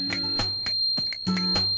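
A tiny bell mounted on a kick scooter rings several times in quick succession, each bright metallic ding close and clear with a short ringing tail.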